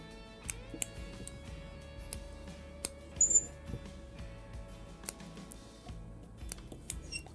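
Small scissors snip trimming materials on a freshly tied hopper fly pattern, a few sharp, quiet clicks and cuts spaced out over a soft room background with no talking.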